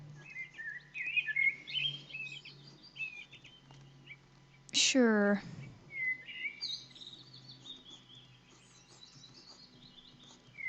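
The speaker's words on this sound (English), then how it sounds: "I hope these birds aren't copyrighted." Small birds chirp and tweet outdoors in scattered bursts, with one louder, nearer call standing out midway; a voice speaks briefly.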